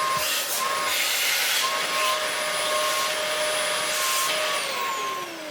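An antique vacuum cleaner, still cold, runs steadily with a loud, even motor roar and a broad hiss, plus a thin high whine that drops in pitch near the end, with no talk.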